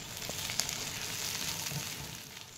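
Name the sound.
chopped onion and green chilli frying in oil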